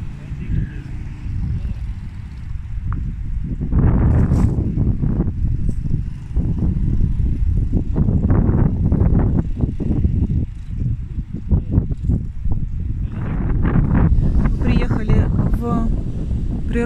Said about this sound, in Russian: правда, очень ветер сильный, и тем более около воды